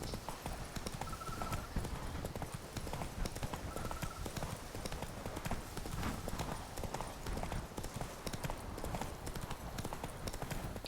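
A horse gallops in The Witcher 3 video game, a steady rapid clip-clop of hooves with faint game ambience and a couple of soft tonal cues.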